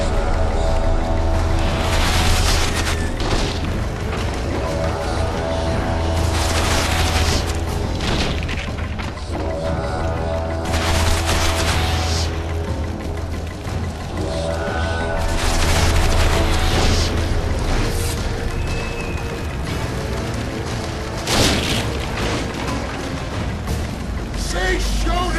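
Booms and combat noise from the video game The Witcher 2, heavy rumbling blasts and impacts recurring through a long stretch, with voices talking over the din.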